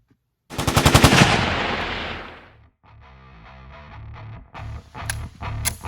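Shots fired from a Canik TP9SFX 9mm pistol, opening with a loud rapid string of close shots that ring out in a long decaying tail, followed by quieter clatter and a few more scattered reports.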